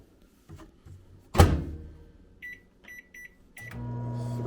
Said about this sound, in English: You pop this in the microwave for about 3 to 4 minutes, and you're good to go.